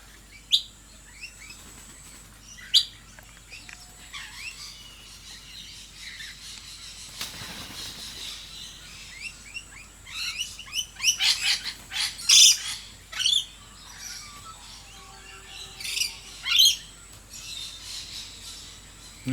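Birds at a bird sanctuary, including blue-faced honeyeaters, give scattered chirps and sharper calls that grow busier toward the end, some near and some farther off, against quiet outdoor background.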